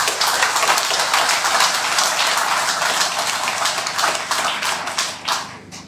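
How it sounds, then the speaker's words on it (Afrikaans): A hall crowd at a Geloftedag gathering at the Karel Landman Monument gives Rihanna Reineke dense, sustained applause that stays loud and even for several seconds before thinning out toward the end. "gee aan 'n klap vir Rihanna Reineke"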